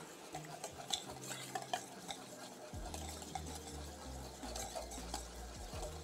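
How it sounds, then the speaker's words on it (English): Whisking a vegan mayo curry dressing in a bowl, a steady run of soft scraping and clicking strokes against the bowl with a low background hum, close and moderately quiet, with no talk. "And we'll whisk this up."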